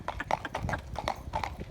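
Shod horse hooves clip-clop on a slippery road surface, a steady irregular series of sharp hard strikes, fairly close and moderately loud, with faint ambient background and no talking.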